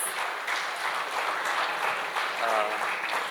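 A banquet hall audience at a world dairy outlook session gives a round of applause, moderately quiet and sustained, with faint voices mixed in under the clapping.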